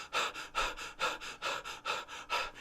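A man imitates the heavy panting of a winded exerciser, about nine quick, rhythmic breaths in and out, close and breathy, with no words.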